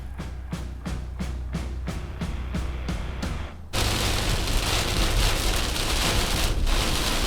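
Heavy rain bursts onto a fall food plot: a run of soft, regular ticking gives way to a sudden, loud and steady downpour hissing close by.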